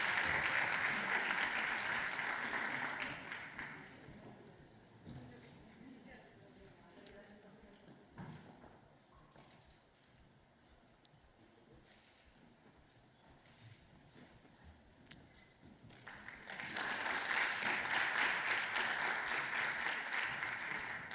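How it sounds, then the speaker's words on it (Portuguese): Loud crowd applause at a forum against violence fades under a speaking voice, then swells again into sustained clapping near the end. "Uma salva de palmas também."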